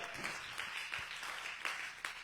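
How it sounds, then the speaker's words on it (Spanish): A church congregation claps steadily in a dense, even wash of applause, moderately distant, with no break for the whole short stretch. "Den un aplauso al Señor."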